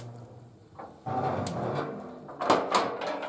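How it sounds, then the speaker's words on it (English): Cast-iron cooking lid lifted off the top of an upright woodstove, heard as a couple of close metallic clanks and scrapes over a quiet room. "you can put some really long firewood in from the top if you just pull these cooking lids off of it"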